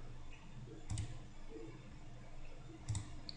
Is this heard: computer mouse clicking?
yes